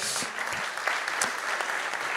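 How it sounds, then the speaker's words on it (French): Audience at a conference on AI and cybersecurity applauding a guest general, dense continuous clapping from a crowd, moderately distant and even throughout the short burst. "on peut l'applaudir aussi, après tout"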